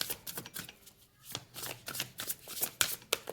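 Tarot cards being shuffled during a Sagittarius reading, a quick run of close, crisp riffling and slapping bursts with a brief lull near the middle, no talking.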